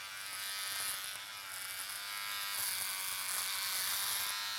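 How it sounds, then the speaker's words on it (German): A budget electric shaver dry-shaves stubble with a steady, close, high-pitched buzz and gritty crackle that runs throughout, with no talking over it. "Für 10 Euro ein Rasierer, der so gut rasiert."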